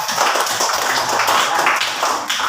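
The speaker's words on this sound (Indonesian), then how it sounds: "jadi penghargaannya tepuk tangan untuk semuanya" A classroom of students claps hands in applause, a dense, fast patter of many claps that holds steady and loud throughout.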